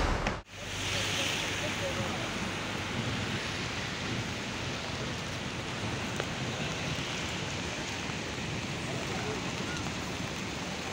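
Steady rain falling during a trip, an even hiss of drops after a brief dropout at the start, continuous and moderately close with no talk over it.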